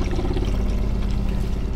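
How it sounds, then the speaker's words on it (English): Purified water pours into a cup in a house without running water, a close, loud, steady stream lasting under two seconds. "I haven't poured this into a cup and drank it yet"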